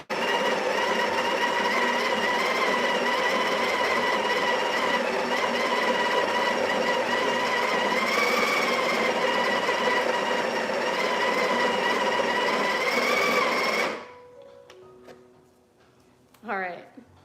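Breville Barista Pro espresso machine grinding coffee beans at grind size 4, a steady loud whirring drone for about fourteen seconds that stops abruptly, followed by faint clicks and a short clatter.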